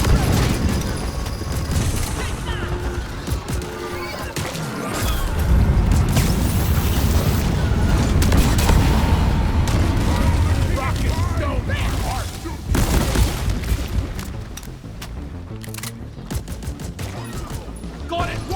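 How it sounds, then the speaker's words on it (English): A cargo rocket blasts off back to orbit in the sci-fi mining game Deep Rock Galactic, a loud sustained rumbling roar with booming bursts and mechanical clatter layered over in-game gunfire. "Cargo rocket is returning to orbit."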